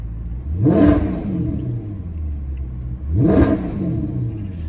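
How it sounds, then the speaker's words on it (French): A Maserati GranTurismo S in sport mode, exhaust valves open, revs twice with loud, close throttle blips about two and a half seconds apart, each rising and falling over a steady idle rumble. "on a le mode sport qui permet d'ouvrir les clapets à l'échappement"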